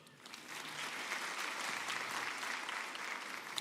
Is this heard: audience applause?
yes